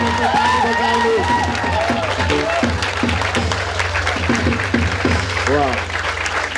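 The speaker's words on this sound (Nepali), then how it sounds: "You are clapping for the King of Kings." A church congregation at an Apostolic Church in Pokhara claps their hands in loud, dense, continuous applause, with voices and cheering mixed through it.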